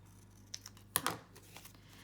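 Scissors closing through a paper journal tag in a crafting session, one crisp, fairly close snip dominating the middle, with a couple of lighter clicks and paper rustles around it, no talking.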